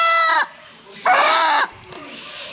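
Loud rooster calls in two harmonic bursts separated by a brief lull, close by, followed by softer clucking and rustling.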